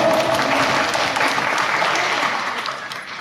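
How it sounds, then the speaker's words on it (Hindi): A theatre audience at an amateur stage play claps steadily to welcome guests. The applause is close and full, then fades slightly toward the end. "अच्छा ताली मारिक स्वागत करो"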